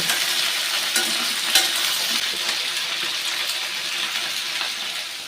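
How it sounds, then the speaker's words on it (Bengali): Pumpkin, beans and eggplant fry in a pan with a loud, continuous hissing sizzle, with a few soft knocks. "কুমড়ো শিম শিম বেগুন সমস্ত কিছু আমি দিয়ে একটু ভাজা ভাজা করে নেব"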